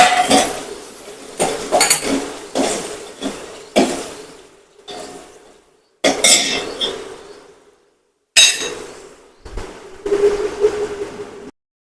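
Spicy desi potato curry with tomatoes is stirred in a pot, the spoon clinking and scraping against the metal in loud, close bursts separated by abrupt silences.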